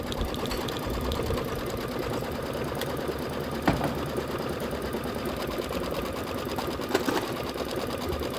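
Embroidery sewing machine stitching a quilting design, a fast steady mechanical whirring with rapid needle rhythm, close and continuous with a couple of faint clicks.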